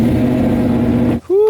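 A car engine revs at a moderate, steady level as the car is repositioned, holding a sustained drone before abruptly cutting out, followed by a brief higher-pitched whine.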